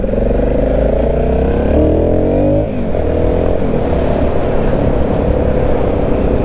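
An Aprilia Shiver 750 motorcycle engine bogging down while the throttle is feathered, a loud, steady, close drone whose pitch sags and wavers before settling into a rough, uneven rumble.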